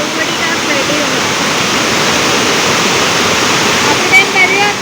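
A constant, full-bodied roar of water plunging down Dunsinane falls on the Pudalu Oya, Nuwara Eliya, heard up close and unbroken with no talking.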